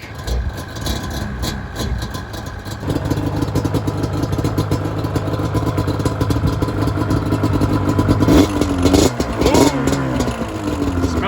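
A Yamaha Banshee two-stroke ATV engine, started with one kick, runs with a rapid buzzing idle that grows louder and ends in a couple of sharp revs, heard close up.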